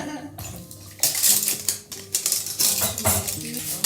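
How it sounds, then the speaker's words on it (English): Dishes and cutlery clatter in a small basin of heated water, plates and utensils knocking together in quick irregular bursts with splashing and sloshing between them, close and fairly loud. "they have to heat up the water and put it in a little basin before they can wash their dishes"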